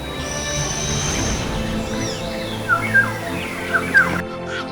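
Forest animals call over a dense background of insect-like buzzing, with several short chirping bird notes rising and falling near the end.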